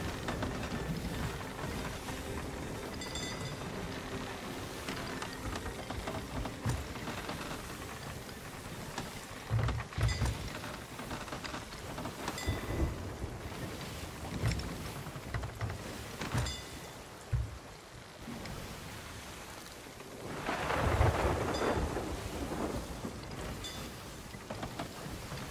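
A stormy sea in Sea of Thieves, with continuous rushing wind, rain and waves. Heavy thuds and crashing surges rise and fall throughout, swelling strongest near the end.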